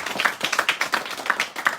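An audience at a Georges Brassens memorial prize ceremony claps in brief, fairly close bursts of sharp, irregular hand claps, with no talk over them.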